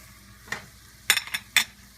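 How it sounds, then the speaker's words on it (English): Minced garlic and browned ground chicken frying in a pan, heard as a few sharp spoon scrapes and clinks over a faint, quiet sizzle. "now I'm going to go ahead and add the 1 teaspoon of finely minced garlic"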